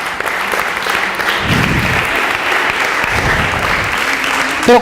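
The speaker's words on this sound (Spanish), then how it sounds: "Le damos un aplauso al Señor." Steady applause from a church congregation fills the space, broad and continuous, with voices talking beneath the clapping throughout.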